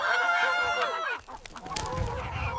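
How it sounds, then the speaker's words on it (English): Two trapped chickens cluck and fuss close by in a forest, their harmonic calls rising and falling continuously with a brief dip midway before scrabbling resumes. "2 chickens caught already."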